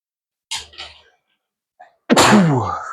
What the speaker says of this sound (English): I just sneezed in your ear.